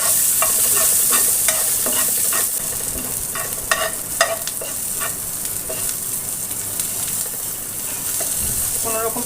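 Garlic frying in a pan for a bean-leaf curry, with a steady bright sizzle and repeated scraping stirs of a utensil against the pan, close and continuous.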